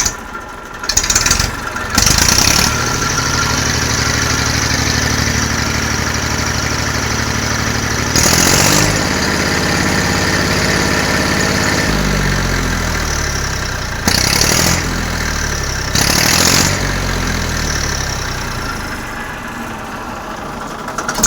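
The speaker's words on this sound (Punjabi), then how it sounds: "ਤੁਸੀਂ ਆਵਾਜ਼ ਵੇਖੋ ਆਵਾਜ਼ ਵੇਖ ਲੋ ਟਰੈਕਟਰ ਦੀ" A Massey tractor's diesel engine idles steadily with a low, chugging rumble, broken by several brief louder bursts over about twenty seconds.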